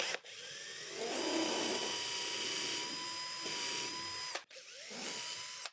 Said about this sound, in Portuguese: Só segura ela aqui e faz o furo guia.